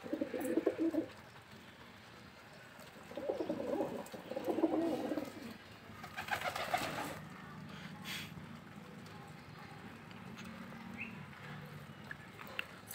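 A pigeon coos softly in a few low, throaty bursts, separated by quiet stretches and a brief rustling noise.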